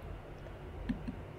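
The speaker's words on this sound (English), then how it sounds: "now it's time for me to click on the screen" Two quick, faint mouse clicks made while using a Python program, spaced a moment apart, close by in a quiet room.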